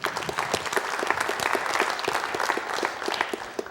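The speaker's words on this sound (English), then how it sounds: "So with great applause, please welcome David to the podium." Symposium audience in a lecture hall applauding a speaker's welcome to the podium, a steady burst of many hands clapping at moderate loudness with individual claps distinct through the crowd sound.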